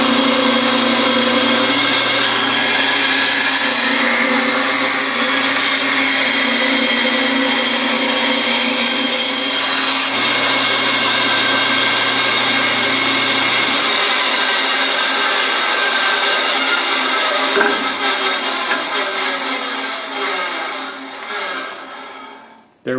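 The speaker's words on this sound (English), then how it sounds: "We'll turn the bandsaw on and just make a quick cut." A woodworking band saw fitted with a 1/4-inch blade runs with a loud, steady whine and hum as it slices through wood, the tone shifting partway through the cut before the motor winds down at the end.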